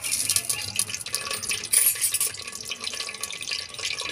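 Raw garlic roasting in a pan for a Rajasthani kairi gunda sabzi, a steady soft hiss with faint stirring clinks, close and fairly quiet, with no talking.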